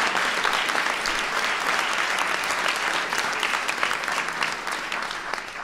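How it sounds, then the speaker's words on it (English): Audience at the White House Science Fair applauding a young participant, dense sustained clapping from a sizeable crowd that holds steady and slowly tapers. "Give Jacob a round of applause."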